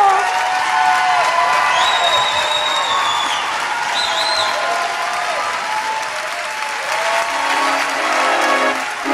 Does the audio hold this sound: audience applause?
yes